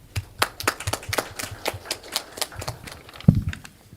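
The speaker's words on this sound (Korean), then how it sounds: "박수로 맞아주십시오." Applause from a conference audience at a panel discussion on AI assistive technology for people with disabilities, a sparse scattering of claps from a modest crowd, fairly faint and uneven, with a brief low thump near the end.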